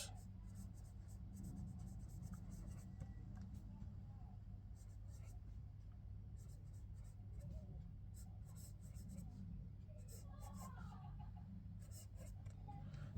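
Titanium number 8 broad nib fountain pen, a Leonardo Momento Zero Grande filled with Diamine Eau de Nil ink, writing on paper with steady close scratching strokes over a low constant background hum.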